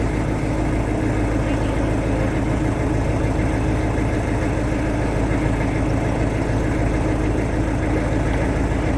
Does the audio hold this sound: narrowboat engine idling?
yes